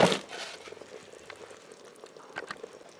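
Mushrooms drop into an Instant Pot beside sliced white onion, giving a soft sizzle with faint clatters and stirring, close by and fairly quiet.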